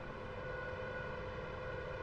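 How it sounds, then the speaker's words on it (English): Low rotor RPM warning siren sounding in the cockpit of a Huey helicopter in the DCS flight simulator game, a steady sustained tone held continuously over engine and rotor rumble, no talk. "if it keeps going we're going to get a siren"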